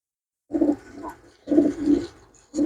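Pigeons on sale, checked one by one, give three close, throaty coos, each a soft rolling burst separated by short silences.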